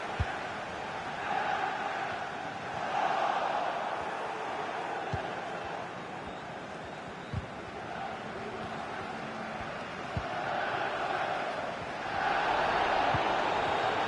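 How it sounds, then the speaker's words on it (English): A football stadium crowd in the FIFA 23 video game sends up a constant roar of chanting and cheering that swells and ebbs in waves, heard without talk over it. "Well, the fans are certainly having their say. Just listen to them."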